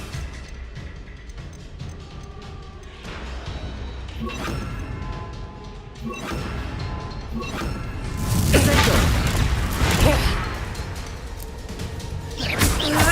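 Confringo explosive spell fired in Hogwarts Legacy, a fiery blast with a crackling burst swelling loudly midway over an ongoing game soundscape of thuds and shimmering effects.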